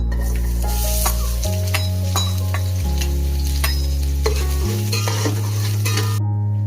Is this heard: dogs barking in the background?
no